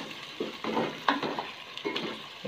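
Potatoes being stirred in a pan with coriander and turmeric give off a soft sizzle, with repeated scraping strokes of a spoon coming in short irregular bursts.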